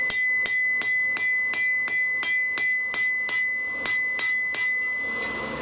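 Hammer blows ring out on steel over an anvil while a scythe hook is forged, about a dozen sharp, evenly spaced metallic strikes with a bright ringing tone, close and loud, slowing and fading slightly toward the end.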